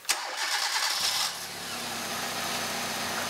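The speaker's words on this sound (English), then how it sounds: "I'm going to start the car." A car engine cranks and catches during a charging system test, a sharp starter burst followed by a roaring start that settles into a steady idle.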